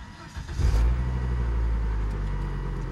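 Close by, a 2001 Volvo turbo AWD wagon cranks and catches, its engine settling into a steady, rumbling idle.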